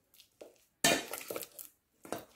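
Potato masher pressing and squashing cooked cilok dough ingredients in a pot or bowl, giving a few short clattering, scraping strokes with a louder burst midway, close and alone.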